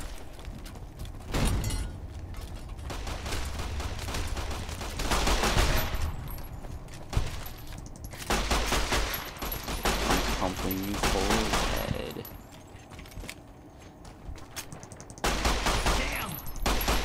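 Repeated 9mm pistol gunfire in the post-apocalyptic game Fallout: New Vegas, loud bursts of shots spread across the clip amid other game sounds and a talking voice.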